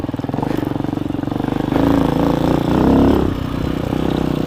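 Amazon Hawk 250 enduro motorcycle ridden off-road in the high desert, its engine droning close by with a steady pulsing note that swells into a louder rev twice before settling back.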